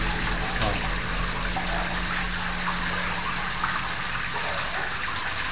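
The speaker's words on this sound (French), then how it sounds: "là, ça c'est la rivière souterraine" An underground river flows through a cave, giving a steady, continuous wash of rushing water with a low hum underneath, unbroken and fairly distant-sounding throughout.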